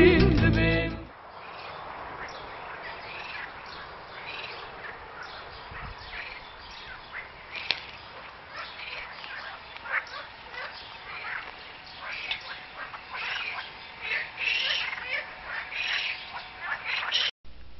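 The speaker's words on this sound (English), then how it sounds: "The moat was full of green algae and very vocal frogs." Frogs call from a green, algae-filled moat at a coastal castle beside the Mediterranean, their repeated croaks and quacking calls rising near and far over a steady outdoor background, with voices talking intermittently.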